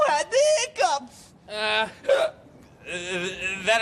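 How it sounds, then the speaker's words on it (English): A young bear in a Sesame Street scene hiccups, producing sharp, voiced hiccup bursts in an irregular series that alternate with spoken voices. "your hiccups are getting so loud, it's causing the ground to shake"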